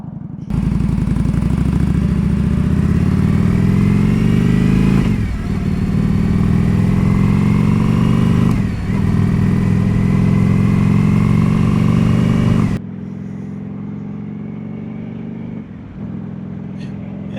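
Indian Scout motorcycle on a road ride to a Florida grocery store, a loud, close engine drone rising through gears with brief dips at shifts, then settling to a quieter steady run.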